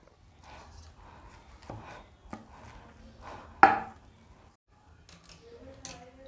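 Boiled potatoes being mashed in a bowl for a kachori filling, with soft, uneven thuds and squishing pressings and one sharper knock midway, fairly quiet throughout.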